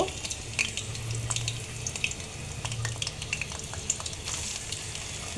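Dried fish frying in oil with green chilies, a steady crackling sizzle with occasional stirring scrapes close by, no voices.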